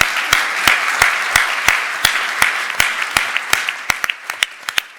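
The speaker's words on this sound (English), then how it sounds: "If you could give me a round of applause for our panel." An audience applauds a panel at a sustainable development event, with distinct individual claps spaced out and thinning toward the end rather than a dense roar, fairly close and loud.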